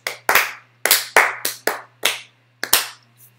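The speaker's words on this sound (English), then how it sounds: "The crowd claps unenthusiastically." A small crowd gives a sparse, unenthusiastic golf clap: about nine separate sharp claps, loud and close, spaced irregularly across a few seconds with a faint hum beneath.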